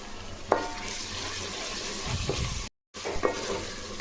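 Ginger, garlic and mint frying and being stirred in a pan for chicken biryani: a steady sizzle with sharp scraping stirs and clinks, close up, broken by a brief silent gap.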